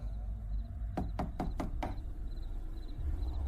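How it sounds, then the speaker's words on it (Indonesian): Knocking on a bedroom door: five quick, evenly spaced raps close by, set against a quiet room hum with faint background beeps. "tiba-tiba ada yang mengetuk pintu kamar."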